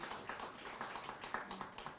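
Scattered, faint clapping from an audience welcoming a poetry prize author from Bucharest, with light irregular hand claps blending into a soft, distant patter.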